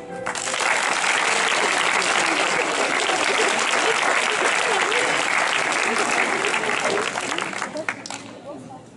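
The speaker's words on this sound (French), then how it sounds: "Et vous pouvez les applaudir." An audience applauds after a hypnosis show, dense broadband clapping that swells quickly, stays loud and steady for about seven seconds, then tapers off near the end.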